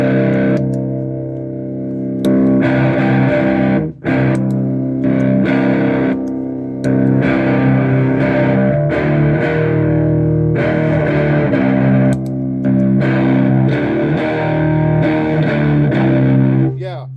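Electric guitar runs through EarthQuaker Devices Speaker Cranker and Special Cranker overdrive pedals, giving thick, driven chords and riffs. The playing is loud and continuous with a few brief breaks.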